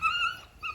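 A young homestead puppy whimpers in two thin, high whining bursts, a longer one followed by a short one after a brief pause, close by and fairly quiet with no talking over it.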